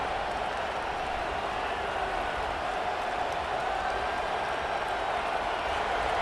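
A stadium crowd roars in EA Sports College Football 25 as the home team threatens to score, a dense and continuous wash of cheering that stays steady and loud throughout.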